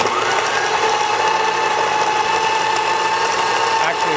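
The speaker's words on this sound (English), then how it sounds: "I'm going to grind, stop, and just push the coffee particles until the portafilter is full" An electric coffee grinder grinds coffee beans into an espresso portafilter, giving a steady, close motor whir with a gritty grinding buzz that runs unbroken for about four seconds.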